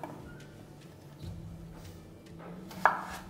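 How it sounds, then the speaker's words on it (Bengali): A potato is being cut into long pieces for a Bengali fish curry with bhetki fish, heard as a few faint knife taps with one sharper chop near the end over a low kitchen hum. "ততক্ষণে পাশে আমি আলুটা কেটে নেবো।"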